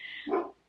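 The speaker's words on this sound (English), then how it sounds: "that's my dog" A pet dog lets out a single short bark close by, moderately loud and quickly fading, with no voices around it.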